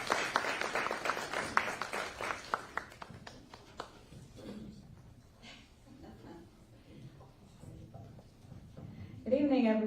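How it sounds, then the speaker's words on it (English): Warm round of applause welcoming a speaker at an evening community event in Rapid City, dense clapping that starts loud and fades over several seconds before a voice begins speaking. "give a warm round of applause"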